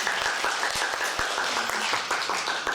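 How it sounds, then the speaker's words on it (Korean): Audience clapping for a foreign worker contestant at a Korean language speech contest, a moderate round of applause with distinct individual claps standing out, fairly close and steady. "네띠웅 씨한테 다시 한번 박수 부탁드리겠습니다"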